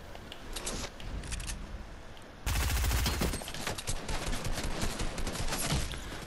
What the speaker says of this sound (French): l'autre mec il tire à travers les barrières